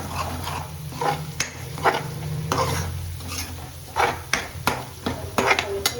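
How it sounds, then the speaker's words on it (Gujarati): Spice paste sautéing in oil crackles with repeated sharp scrapes and clinks of a spoon against the pan, heard up close, with a dog barking intermittently nearby. "અને આને પણ તેલમાં 2 મિનિટ સાંતળી લેવાનું"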